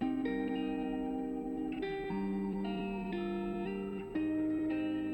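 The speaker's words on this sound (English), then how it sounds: "it's just a basic guitar" A looped electric guitar phrase with effects plays alone, bright sustained notes shifting in a simple repeating progression.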